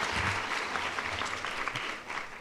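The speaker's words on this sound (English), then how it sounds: "You guys can clap if you like." An audience at an Educator of the Year award ceremony applauds, a dense, steady patter of many hands clapping that carries on evenly throughout.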